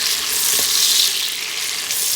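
Steady, loud sizzling of a one-pot chicken biryani mixture with green chilies as it is stirred in the pot, heard up close with faint scraping and no talk.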